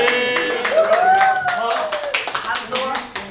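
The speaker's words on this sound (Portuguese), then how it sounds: "Salva de palmas aí, ó." A small audience claps for the barbecue cook, a run of sharp, uneven hand claps that grows more distinct toward the end, heard under someone talking loudly.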